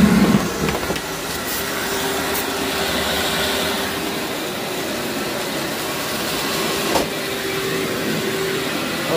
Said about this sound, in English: I'm going to vacuum down here